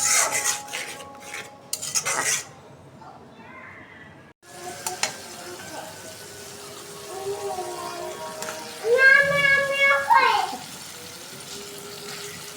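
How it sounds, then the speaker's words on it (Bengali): Spices being fried and stirred in a pan for a curry, a steady close sizzle with scraping and clinking of a utensil, briefly interrupted, with a faint voice and a rising whistle-like tone near the end. "এই যে মশলাটা কষাই নিতেছি এখন"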